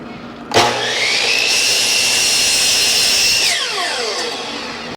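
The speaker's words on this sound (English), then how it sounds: "First cut I'll do is the 5-degree bevel." Power saw cutting a 5-degree bevel through wood door trim: a loud motor whine spins up sharply, holds a steady high pitch through the cut, then winds down with falling tones near the end.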